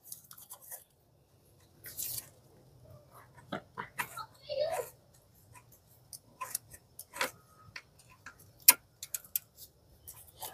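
A ratchet unscrews the ignition coil bolts on a 2004–2009 Kia Spectra EX sedan, giving bursts of sharp clicking with pauses between them. A voice is faintly audible at times.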